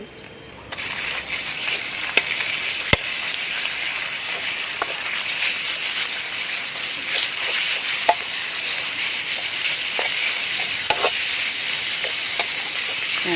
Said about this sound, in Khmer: ឥឡូវយើងខ្ទឹមពងយើងឈ្ងុយហើយយើងចាក់ទៅជ្រូកឆាទៅ